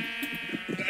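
A single sheep in Minecraft gives a short wavering bleat, loud and up close, lasting about a second.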